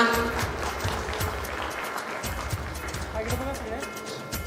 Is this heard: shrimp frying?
no